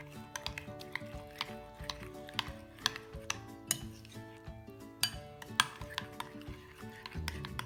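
Spoon stirring Big Mac sauce ingredients, including paprika and white vinegar, in a bowl, with quiet repeated clinks and taps of metal against the bowl, faint and close.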